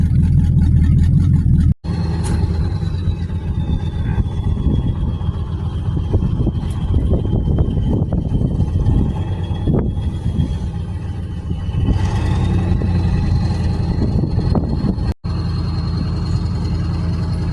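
A hot rod car engine rumbling loudly while driving, a close, continuous low roar with swells of revving and shifting pitch, wind and road noise mixed in and brief cuts in the sound.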